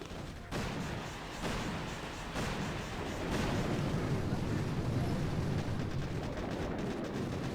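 Rolling artillery barrages in a naval strategy video game, landing on enemy engine room buildings: a continuous dense rumble of overlapping explosions with sharp onsets, swelling louder and holding steady, with no talking.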